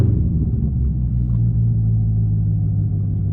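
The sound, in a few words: Corvette Grand Sport with AWE exhaust revving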